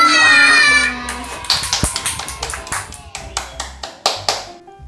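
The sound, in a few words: clapping hands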